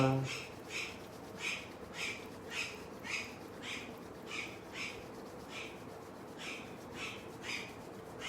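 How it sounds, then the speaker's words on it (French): Small parrots on a terrace chirp in a quick, evenly repeated series of bright calls, moderately distant and soft, continuing under a calm speaking voice. "Écoutez les petits perroquets qui s'amusent sur ma terrasse."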